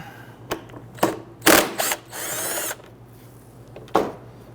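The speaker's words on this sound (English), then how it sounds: "We need to swap this bracket over. Use a 10mm socket." Ratchet with a 10mm socket loosening the washer reservoir bracket bolt on a 2011-2023 Dodge Charger 3.6L V6, heard as several short broadband clicks and rattles, then a sustained whirring burst and one final click, close up, with steady low hum beneath.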